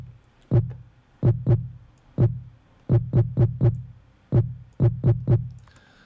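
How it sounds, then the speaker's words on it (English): A deep, punchy kick drum pattern programmed in FL Studio for a trap beat, thumping in irregular syncopated clusters of single and rapid double and triple hits, heard alone. "This is the first kick."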